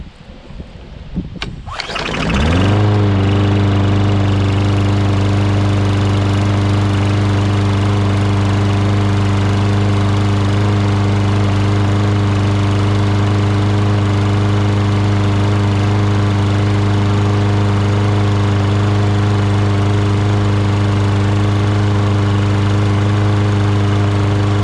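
Briggs & Stratton small engine after a carburetor cleaning: it coughs briefly, then catches and settles into a loud, steady running drone that holds for over twenty seconds.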